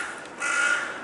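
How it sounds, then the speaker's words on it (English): A crow caws outdoors, a single harsh call held for under a second, moderately loud against a steady ambient hiss. "shut up, crow."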